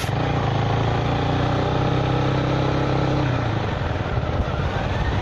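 A Zontes 310V motorcycle engine hums steadily under way, a loud, continuous mid-pitched drone with rushing wind noise, easing slightly near the end, no voices.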